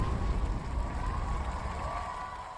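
A canned applause effect plays on a live stream, a dense wash of many hands clapping with faint crowd cheering, steady and fading slightly toward the end.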